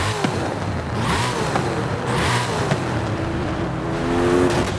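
A stock Hennessey Venom F5 roars in Forza Horizon 5, a loud, close engine note that rises and falls through revs and gear changes, with a brief tire squeal, no voices.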